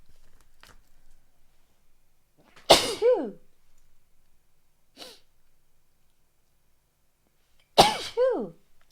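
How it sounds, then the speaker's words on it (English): Two loud sneezes seconds apart, each a sharp burst followed by a short trailing sound, with quiet clicks and breaths between. "I need to sneeze."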